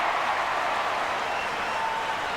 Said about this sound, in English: Cheer for Langer chasing the kick.